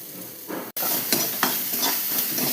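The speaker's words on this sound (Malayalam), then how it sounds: "ഇളക്കി കൊടുക്കാം." A spoon stirs a frying mixture of grated coconut, green chillies, salt and turmeric in a pan, making close scraping strokes in an irregular rhythm over a continuous sizzle, with a brief sharp dropout early on.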